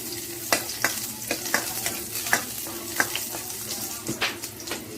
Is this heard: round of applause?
no